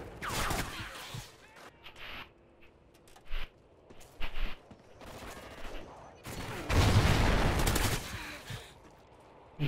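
A video game shootout with bursts of gunfire in irregular clusters, some sharp isolated shots and a long loud volley near the end, separated by quieter gaps.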